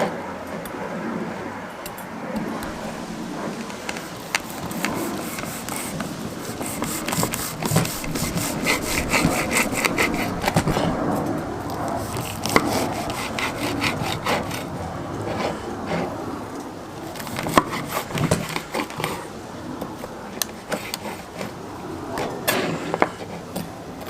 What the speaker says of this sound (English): Alright, let's slice into it.